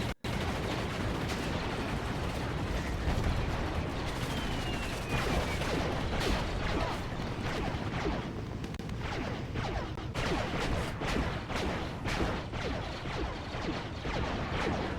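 Rapid fire from tracked tank units in a Star Wars real-time strategy battle, a steady dense clatter of shots and impacts running throughout at fairly constant loudness, with no voices.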